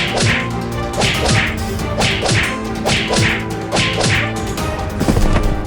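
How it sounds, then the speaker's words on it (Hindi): Cartoon sound effect of zombies beating on a road: a steady, loud series of sharp whip-like swishes and thwacks, roughly two per second, over a busy musical background. "रोड को पीटने लगते हैं"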